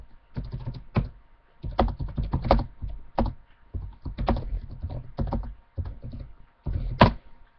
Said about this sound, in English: that was fast typing